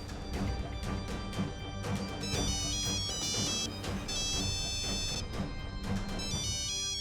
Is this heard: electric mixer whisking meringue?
no